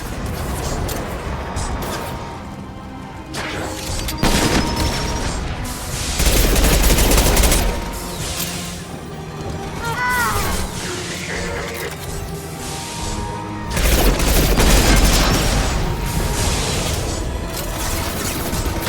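Mass Effect 2 combat with bursts of automatic gunfire, heavy grenade booms and clattering impacts, loud and dense in several waves across the scene.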